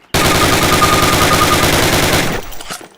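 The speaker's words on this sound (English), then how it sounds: "Fire 10 rounds at your target, first from the hip, then aiming down the gun sight." A Call of Duty automatic weapon firing rounds at a target, one loud, rapid, unbroken burst of machine-gun fire lasting over two seconds before cutting off, followed by faint rattling.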